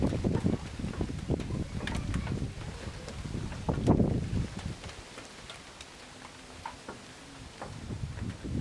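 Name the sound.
strong wind during rainstorm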